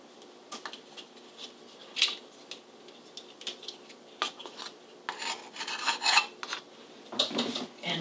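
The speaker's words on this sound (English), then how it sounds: "I'm just going to whisk that around, making sure that our leavener is evenly combined into our flour." A whisk scrapes and rasps around a bowl of flour mixed with baking powder, intermittent rubbing strokes that grow busier and louder toward the end, close by with no talk.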